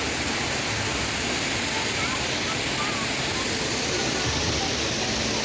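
Hinulugang Taktak waterfall in Antipolo pours in a constant, dense roar of falling water that fills the whole clip without pause.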